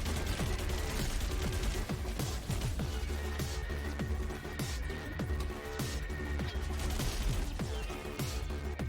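A turret fires in the game Freakout: Calamity TV Show, rapid repeated shots and impacts in bursts throughout, loud against a steady background rumble.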